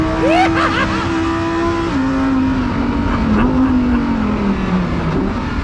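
A Lamborghini Huracán STO on a track lap produces a loud, sustained engine howl from inside the car, its pitch rising, then dropping through shifts and sagging as it brakes, with constant road and wind roar.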